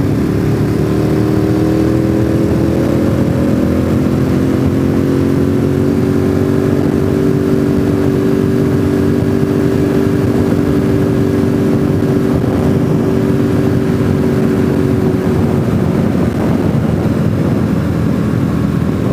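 A motorcycle riding at speed on the road toward Deals Gap, with loud, continuous engine drone and wind roar close up that holds a steady pitch before easing off slightly near the end.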